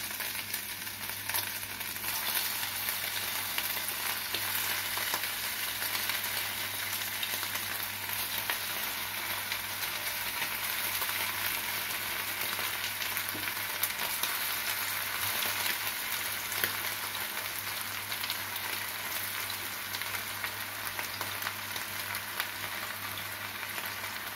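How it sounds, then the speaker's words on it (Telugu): Chicken pakodi pieces deep-frying in hot oil give a steady, dense sizzle and bubbling hiss that holds evenly throughout, close and unbroken, with no speech. "ఆయిల్ వేడెక్కింది, ఒక్కొక్క పీస్ కింద వేసుకుందాం."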